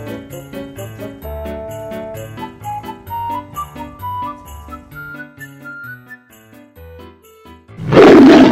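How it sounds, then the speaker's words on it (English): Lion roar bursting out loudly at the end, after a long stretch of cheerful tinkling, whistly melody in a children's animal puzzle game. "Lion. L. I. O. N. Lion."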